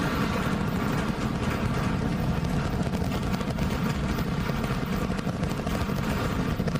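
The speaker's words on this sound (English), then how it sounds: "33 out of 33 Raptor engines lit on the Super Heavy booster, arcing away from us here at Starbase" A SpaceX Super Heavy booster with 33 Raptor engines climbs away from Starbase, a dense, steady broadband roar rumbling continuously from a distance with no breaks.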